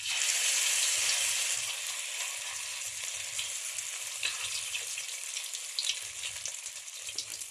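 Banana blossom omelette sizzles in a hot pan as a loud, steady frying hiss. It eases slightly after the first second, with faint clinks and stirring sounds underneath.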